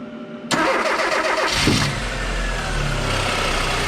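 A Rover Metro that sat unused for years cranks briefly and catches, its engine starting with a sudden loud burst, then settling into a steady, rough idle close by.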